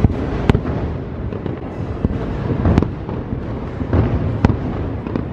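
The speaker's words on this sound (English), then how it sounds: "It's just so stunning having those perimeter fireworks go off to the side, and they go so high." Perimeter fireworks over Magic Kingdom on the 4th of July crackle and boom in a dense, continuous barrage, with sharp distant bursts popping every second or so over a rumbling wash of explosions.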